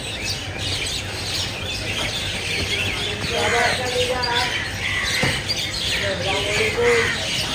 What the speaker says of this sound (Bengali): দেখেন কতগুলো পাখি